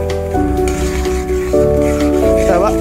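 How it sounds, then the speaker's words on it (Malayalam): Roasted semolina for upma is tipped into boiling water in a pan, giving a close, continuous hiss and sizzle with scraping stirring over a steady tonal background. "ഞാൻ റവയിട്ട് കൊടുക്കുകയാണ്."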